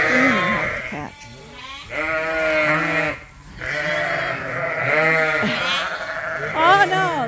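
Sheep and lambs on a farm bleating repeatedly in overlapping, wavering calls, close and fairly loud, with short pauses between bursts and background noise underneath.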